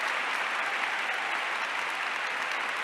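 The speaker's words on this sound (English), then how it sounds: "Please give them a big round of applause" Applause for visiting guests from Venezuela and Italy at an event on Blessed José Gregorio Hernández, a dense, even roar of clapping from a large audience sustained throughout.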